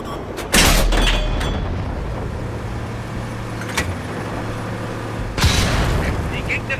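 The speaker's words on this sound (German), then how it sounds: "Die gegnerische Artillerie hat es auf uns abgesehen." Enemy artillery fire in the tank video game World of Tanks, two heavy booming impacts a few seconds apart over a continuous low engine rumble, with lighter clanks in between.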